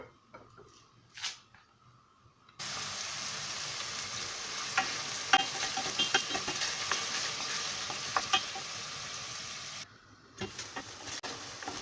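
Chicken sizzles loudly as it hits hot olive oil, a continuous frying hiss with scraping stirs and small pops, preceded and followed by quiet kitchen clatter.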